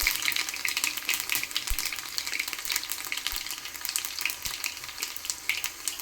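Steady, bright sizzling of cumin seeds dropped into hot tempering oil for sambar, a dense crackling hiss with a few soft low knocks, close and continuous.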